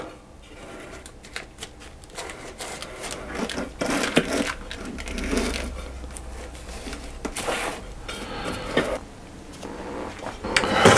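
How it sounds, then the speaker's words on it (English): Cake batter for a chocolate sandwich sponge spread and levelled in a baking tin, giving soft scraping, rubbing and knocking sounds that come in irregular bursts, near and moderately loud, with no talking. "we just spread our batter out in our tin"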